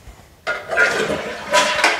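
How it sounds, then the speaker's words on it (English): A newly installed dual-flush toilet flushing: a sudden rush of water starts abruptly and surges steadily for the rest of the moment, fairly close and loud, with no talk over it. "Now I'm going to open up the water again and try another flush."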